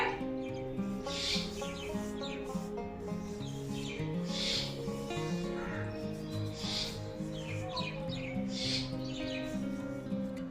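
Ground coffee scrub rubbed onto the face by hand, heard as about four soft, rhythmic rasping strokes spread evenly across the clip over steady background music.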